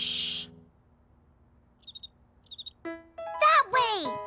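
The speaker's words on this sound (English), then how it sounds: "We have to listen for that sound and follow it until we find the cricket." Cricket chirping in short pulsed bursts, two quick clusters in a quiet indoor cartoon scene, followed by a voice speaking loudly.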